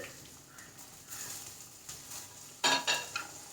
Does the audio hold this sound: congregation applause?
no